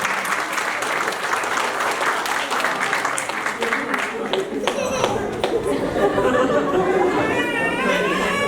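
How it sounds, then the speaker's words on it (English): An audience at a play school's annual cultural fest applauds children, with sustained clapping, scattered laughter and crowd chatter throughout, and voices talking over the applause. "So please have a big round of applause for these kids."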